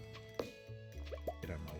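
A watering can pouring in the Stardew Valley video game, a few soft, quiet dripping and splashing blips in quick succession against a low background.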